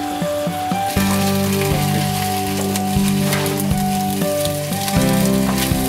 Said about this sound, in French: ça va cuire dans la sauce